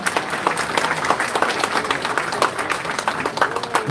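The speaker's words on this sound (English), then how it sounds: "Can we give a round of applause just one more time to the three ladies?" An audience at a campaign event for a U.S. congressional candidate applauds three women, producing sustained, lively clapping with distinct individual claps standing out at a steady, even level.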